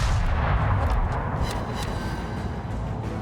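Naval gunfire booms across the water as shells strike an enemy ship in World of Warships, a dense, loud rumble of artillery that fills the whole stretch and fades slightly at the end.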